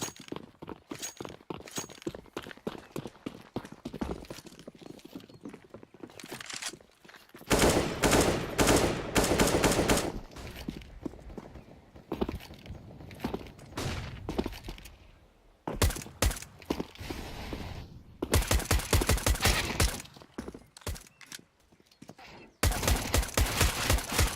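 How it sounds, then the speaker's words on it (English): Rapid pistol fire from USP handguns in a competitive Counter-Strike style match, with repeated bursts of sharp close shots and ricochets in dense clusters, separated by brief quieter gaps. "Shots coming in."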